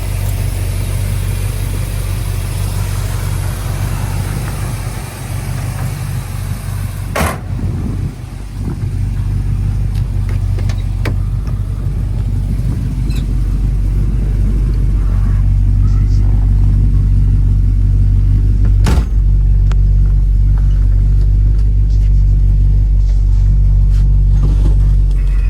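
A 1971 Dodge Charger R/T with a 440 Magnum V8 on a test drive, a loud deep engine rumble held steadily throughout with a couple of sharp knocks, faint talk in places.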